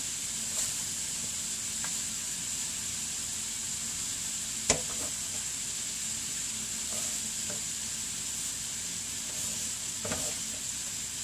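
Greens sizzle and wilt in a hot pan, a steady close frying crackle with occasional louder pops and stirring clicks, no voices.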